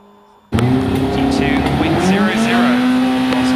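A race car at a track sprint event powers through a fast S-bend with understeer, its engine note rising and holding steady, loud and close after a sudden start, with a commentator's voice running over it.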